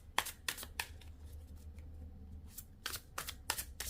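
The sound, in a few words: shuffling tarot cards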